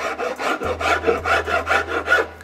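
A hand file rasps along the edge of wood veneer, trimming away excess in about eight steady, even strokes, close and distinct with a faint low hum beneath.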